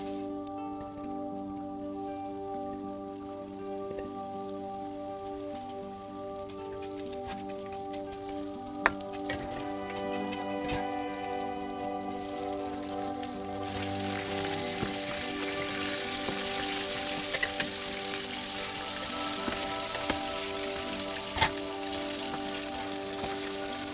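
Chicken pieces for KFC-style fried chicken sizzle steadily in hot oil, a dense crackling hiss that swells louder partway through, with occasional sharper pops over a faint background hum.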